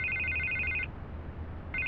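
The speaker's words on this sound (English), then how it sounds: "I can't get the phone to stop ringing" A telephone rings with an electronic bell tone, one ring lasting under a second, then a pause, then the next ring beginning, clear and fairly close.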